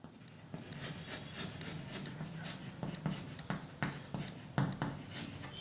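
A pen scratches out a definition by hand on paper, steady soft scraping strokes with small taps, close and fairly quiet, no voice over it.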